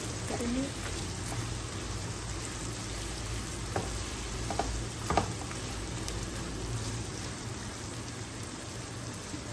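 Mutton sizzles in a pan as it fries for a spiced gravy, giving a continuous dense crackle at a fairly low level with a faint hum underneath and a few sharper pops, without clear speech.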